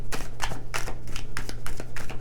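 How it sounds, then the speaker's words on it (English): Tarot cards being shuffled by hand in a run of crisp, quick riffling bursts, about eight rapid rustling snaps in steady rhythm, close and fairly loud over a low steady hum. "2 more shuffles, and then I will just pull from the top."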